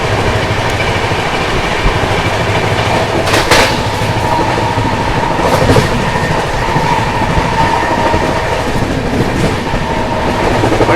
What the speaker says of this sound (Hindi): बढ़िया भाग रही है अपनी बिहार संपर्क क्रांति, बहुत ही अच्छा भाग रही है